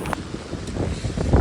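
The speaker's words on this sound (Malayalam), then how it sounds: "ഒടുക്കത്തെ മഴയാണെന്ന് പറഞ്ഞാൽ നല്ല മഴയും കാറ്റും." Heavy rain and gusting wind at sea aboard a fishing boat, a dense continuous roar of wind buffeting and rain noise with rough low rumbles, no speech.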